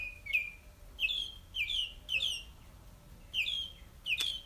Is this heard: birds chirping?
yes